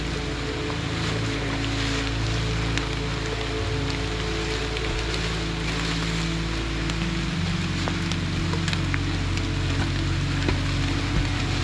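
Steady heavy rain falling during a mountain hike on Gunung Sagara in Garut, West Java, a dense continuous hiss with low rumble, close and unbroken throughout.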